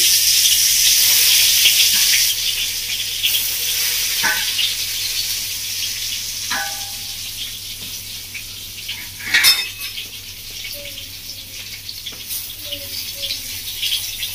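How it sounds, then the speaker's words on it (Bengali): Eggplant pieces rubbed with salt and turmeric frying in hot oil for baigan masala, giving a steady broad hiss with occasional utensil clinks and a sharper burst near the middle. "আমরা বেগুনগুলো তেলে ভেজে নেবো। তেল গরম হয়ে গেছে।"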